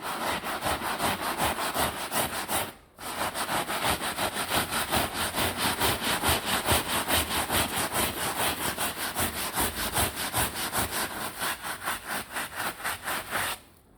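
A stiff brush scrubs heavily soiled fabric upholstery treated with 3M foaming car interior cleaner, making steady rhythmic back-and-forth strokes up close. The scrubbing breaks once briefly and then continues without any talking.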